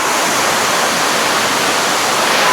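Lubuk Bulan waterfall near Kelok Sembilan roaring as a loud, steady wash of broadband rushing water, continuous and close with no voices.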